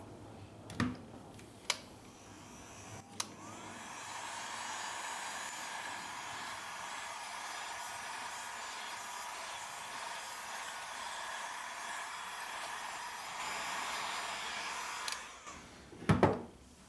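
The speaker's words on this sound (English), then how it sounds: "I'm going to hit it one more time with the heat gun just to sort of distress the leather" A heat gun blows a steady, airy hiss onto a leather-wrapped dagger handle set in pine pitch, starting after a few sharp knocks and running fairly quietly before ending with clatter.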